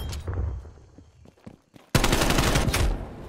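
Gunfire in the shooter game Black Ops Cold War: a few muffled thumps, then a sudden loud burst of rapid automatic fire that rattles on for over a second before cutting off.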